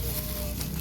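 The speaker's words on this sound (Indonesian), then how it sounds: "Mau menggoreng tempe mendoan karo pisang pemirsa pisang goreng" Tempeh mendoan and banana fritters frying in hot oil, a short steady sizzle with no voices.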